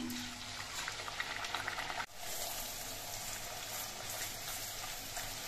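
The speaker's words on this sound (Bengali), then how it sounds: "এবার একটা করে লুচি দিয়ে আমি ভেজে নিচ্ছি" Luchi, a puffed flatbread, fries one at a time in a kadai of hot oil. A dense, steady sizzle and bubbling fills the whole stretch, with one brief dip partway through. No one speaks.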